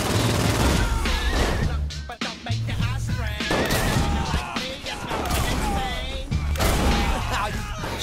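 Chaotic gunfire from the Saints Row IV video game during a plane boss fight, bursts of shots layered over loud music and effects, with characters talking over the din.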